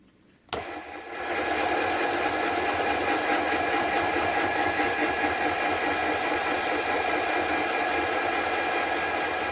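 A motorized marble polishing machine runs on 8000 grit to polish a vintage German swirl marble, starting with a sharp thump and then settling into a loud, constant whirring hum with a faint rhythmic ticking.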